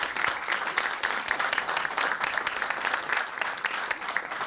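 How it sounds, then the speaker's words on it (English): An audience at an HR conclave panel applauds the panelists with steady, dense clapping, loud and even throughout. "A huge round of applause for all our panelists"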